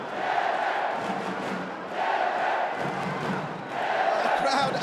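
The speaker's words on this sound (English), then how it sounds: "The crowd absolutely behind their man, as you can imagine." Boxing arena crowd at a 60 kg world championship bout cheers in rolling surges, a chanting roar of massed voices rising and falling in waves every couple of seconds.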